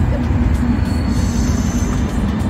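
A train in Lisbon rumbles along the tracks with a loud, dense low roar and faint metallic wheel squeal above it, continuous throughout.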